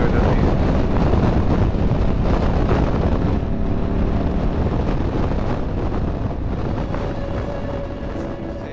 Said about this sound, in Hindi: हवा का दबाव बहुत ज़्यादा है